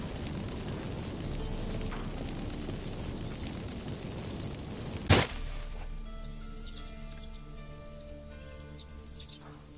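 Magic fireworks effect in the video game Witcher 3, a sharp burst midway that breaks a steady rushing ambience, followed by shimmering tonal sparkles and faint crackles trailing off.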